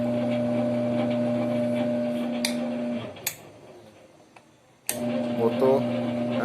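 A washing machine motor tested without its control board, running clockwise with a steady mechanical hum that cuts off partway, followed by clicks, quiet, then resuming with humming and ticking.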